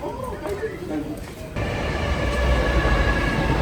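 A freight train rolls past nearby in falling snow, its steady rumble and wheel noise swelling partway through, with people talking over it.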